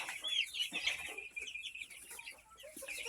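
Barred Rock chickens clucking close by, with a run of soft, irregular clucks and chirps over a quiet background and no talking.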